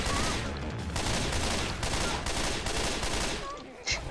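Dense, continuous gunfire rattles nonstop in Left 4 Dead 2 as players shoot a zombie, loud and close with overlapping bursts.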